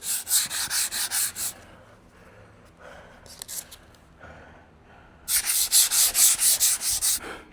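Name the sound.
sanding wheel grinding aluminum boat hull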